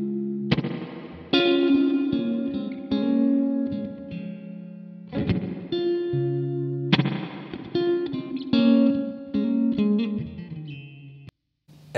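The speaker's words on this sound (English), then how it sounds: "You have the option of running it in spring reverb mode." An electric guitar plays chords and single notes through the spring reverb of a Laney guitar amp, each strum trailing off in a splashy, wet decay.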